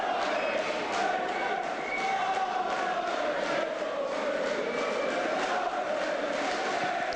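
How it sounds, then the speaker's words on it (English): A boxing arena crowd roars steadily through the Devakov vs Brodie fight, a dense, sustained cheer with a commentator talking over it. "Crowd loving this, as well they might."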